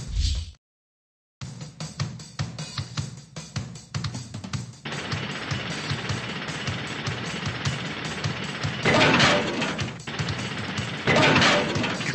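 Heavy rock drilling in the Blaze and the Monster Machines game, a loud rapid mechanical hammering and grinding that cuts out briefly, then resumes as a sustained rattling roar with bursts of crashing.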